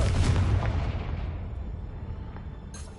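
A Confringo spell explodes in the Hogwarts Legacy video game, a loud booming burst at the start that rumbles and fades slowly over a few seconds, with a faint crackle near the end.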